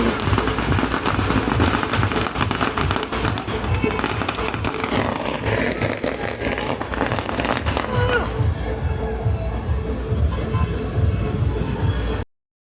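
A long string of firecrackers crackles and bangs without pause near a cave at Talaja, dense rapid pops filling the whole stretch before cutting off abruptly.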